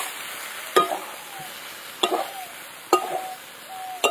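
Poppy seed and sesame paste being sautéed in a pan for a cauliflower chicken curry, with a low steady sizzle broken by three or four sharp scraping stirs of a spoon against the pan, close and without voices.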